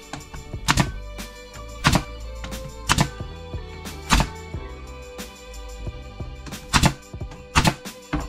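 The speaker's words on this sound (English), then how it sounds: "I'm just nailing them in now with a nail gun." Nail gun driving nails into wood while a log cabin bird house is assembled, with sharp percussive shots fired one at a time at irregular intervals, close and loud.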